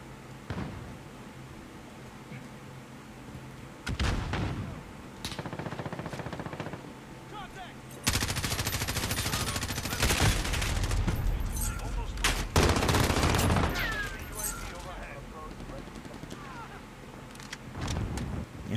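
Bursts of automatic gunfire and rapid shots in Call of Duty Modern Warfare multiplayer, several dense volleys coming in waves over about eighteen seconds, loud and close, with a voice talking at points.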